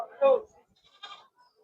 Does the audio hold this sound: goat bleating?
yes